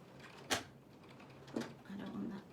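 A blade on a paper trimmer slices designer series paper diagonally from corner to corner for card-making, heard as two quiet sharp clicks followed by a brief soft scraping slide, close by with no talking.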